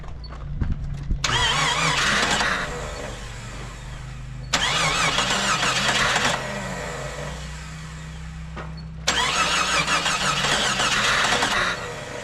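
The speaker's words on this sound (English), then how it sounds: "so we're about to see if it'll turn over and start" A Jeep engine that had been sunk in water cranks in three long bursts with a harsh whirring starter and squeal, settling into a low rumbling idle between attempts, loud and close.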